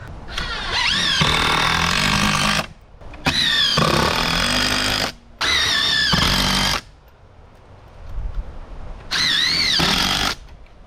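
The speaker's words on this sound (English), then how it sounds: "So I have 3-inch screws here. I can go through the picket 2x4 into the post." A power driver sinks 3-inch screws through a 2x4 and picket into a wooden fence post in four loud, close bursts of whining, ratcheting motor noise, with short pauses between them.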